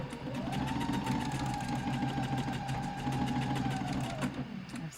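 A sewing machine stitches an elastic waistband channel on lounge pants with a steady, close, rapid mechanical whir that runs continuously for about five seconds.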